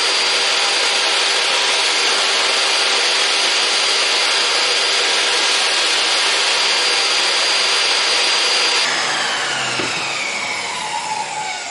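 A saw cuts through wood for a box insert with a loud, sustained, even whine and rasp, then the tone shifts and eases toward the end as the cut finishes.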